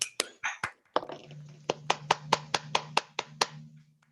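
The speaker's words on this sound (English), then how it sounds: "Everybody can unmute if they want to and give David a nice applause" A few people clapping over an online call after a presentation, sparse and uneven at first, then a steady run of about a dozen distinct near claps that fade out.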